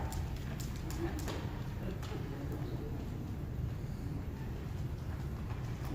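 Steady clip-clop of trotting hooves in a kindergarten play, fairly close and continuous over a low rumbling background.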